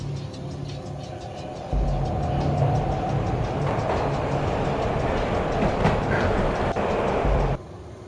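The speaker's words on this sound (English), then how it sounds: "This was my second train ride of the night." A train ride in Max Payne rumbles steadily with a low, heavy roll and rhythmic clickety-clack of wheels on rails, swelling louder partway through and then cutting back down near the end.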